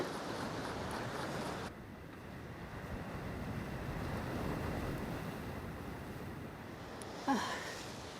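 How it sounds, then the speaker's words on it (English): Waves surge and break over a beach jetty, a steady, moderate wash of surf and wind rumble with a brief sharper splash near the end, no voices present. "The waves are coming over the top of the jetty"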